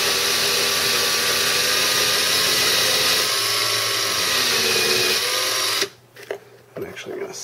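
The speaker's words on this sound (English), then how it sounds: "let's run the drill." A power drill spins a lock pin against an assortment of files, a loud continuous whirring grind for several seconds that cuts off abruptly, followed by quieter handling clatter.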